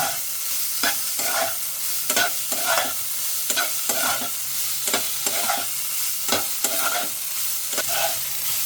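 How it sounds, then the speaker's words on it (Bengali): Minced meat fries with garam masala in a pan, a constant loud sizzle broken by regular scraping stirs of a spatula, roughly one or two per second, with no talking. "ভাজা হয়ে গেছে মাংসের কিমাটা"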